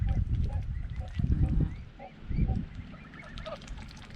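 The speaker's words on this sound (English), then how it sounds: "He's a happy swan, aren't you?" A swan beside a moored boat at a marina gives several close, nasal honking calls in short bursts, with a faint voice in the background.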